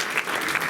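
Audience applause for three finalists at the 2025 world eloquence contest final, a dense, steady wash of clapping from a crowd that fills the brief moment without a break.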